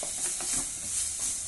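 Diced tomato sautés in a pan for paneer butter masala, giving a steady close sizzle and hiss with soft scraping stirs throughout.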